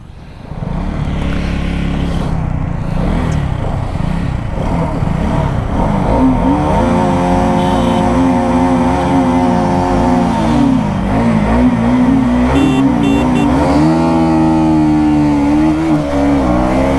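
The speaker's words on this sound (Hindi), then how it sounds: "और मैं चलाने वाला हूँ ड्यूक 250।" Duke 250 and RS200 motorcycles accelerate hard side by side in a performance race, a loud continuous engine roar with rising and falling revs through gear changes, close and sustained throughout with no talking.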